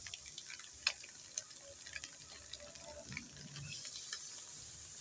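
Mash kalai greens sizzling and frying in a pan, a steady faint crackle with a few sharp ticks and clinks of stirring, no voices.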